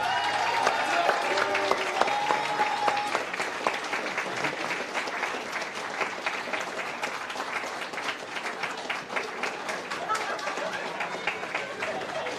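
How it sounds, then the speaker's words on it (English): Sustained, loud audience applause fills a hall at an Othello world championship prize ceremony in Belgium, dense clapping running steadily throughout with some crowd noise mixed in. "they deserve a round of applause that's louder than anything we've heard in this room so far"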